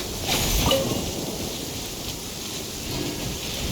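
Steady rain and a low rumble of thunder in the video game Genshin Impact, during an Inazuma festival scene; a dense, even wash of rainfall that continues unbroken, with no voices.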